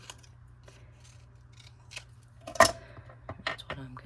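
Scissors make a sharp snipping cut through paper craft material partway in, followed by a few softer rustles and handling noises over a steady low hum.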